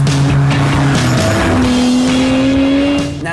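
A BMW M car, M3 or M5 race-bred road car, drives hard past, engine note loud and rising through gear changes, with tyres squealing near the end.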